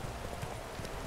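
A horse's hooves clip-clop in The Witcher 3: Wild Hunt, a steady run of close, moderately loud hoofbeats with no talking over them.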